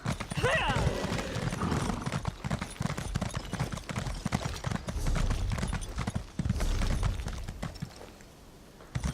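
Hooves clop rhythmically in a steady gallop, fairly close, with a horse whinnying early on and a person talking over the hoofbeats, in The Elder Scrolls Online: Summerset.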